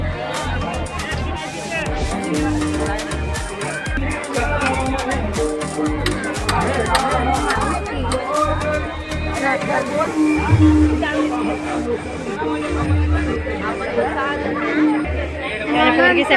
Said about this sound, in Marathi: बरीच गर्दी आहे